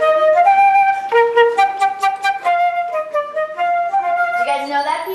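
A flute plays the melody of Yellow Rose of Texas, bright and close, with a smooth connected tune and no talking over it.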